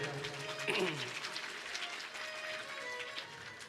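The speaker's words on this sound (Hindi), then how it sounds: "अपने लिए ताली बजाओ एक बार।" An audience at a devotional Hindi singing gathering claps together in dense, continuous applause, with a voice briefly rising over it.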